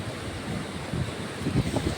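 Sea waves washing onto a beach near a temple: a continuous rushing surf with soft surges, mixed with wind buffeting the microphone, moderately loud and without speech.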